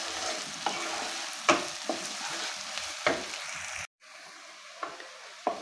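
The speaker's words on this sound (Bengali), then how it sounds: "এগুলো খুব ভালোভাবে এখন নেড়ে চেড়ে একটু হালকা করে পেঁয়াজগুলো ভেজে নিচ্ছি" Onions frying in hot oil in a pan while being stirred, with salt added, for a village-style beef and chickpea lentil curry; a steady sizzle runs throughout, broken by repeated scraping stir strokes, near and moderately loud, with no talk.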